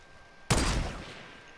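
A single loud hunting rifle shot in Fortnite, a sharp crack with a rolling tail that fades over about a second, standing alone against quiet game ambience.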